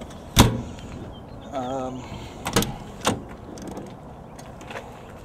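The side door of a 1999 Ford E-450 ambulance clunks and slides, with a couple of sharp latch knocks and a brief mechanical whir between them, close by.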